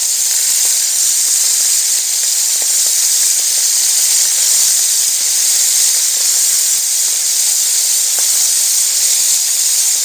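Seafood searing in a hot skillet, a steady loud hiss of sizzling oil running continuously throughout, with no talking.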